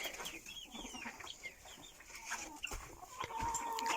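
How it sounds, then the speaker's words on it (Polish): Hens and chicks feed in a poultry yard, giving scattered soft clucks and cheeping over a faint outdoor background, fairly quiet and irregular. "tutaj kurczaczki jeszcze sobie jedzą"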